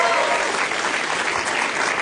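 Steady audience applause for comedian Bintang at a stand-up comedy show, a dense, even wash of clapping from a crowd that holds at full strength throughout the short stretch.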